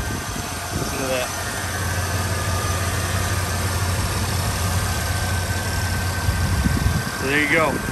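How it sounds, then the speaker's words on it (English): A steady low engine idle from a 1994 Chevy S10 Blazer Tahoe rumbles throughout, with short bursts of voices near the start and end. "I'll start it up so you can hear the engine run."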